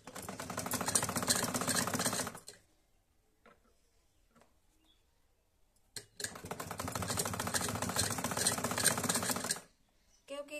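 A sewing machine stitches a band-collar kurti neckline in two loud runs of rapid mechanical stitching, separated by a quiet pause, with a brief restart at the very end.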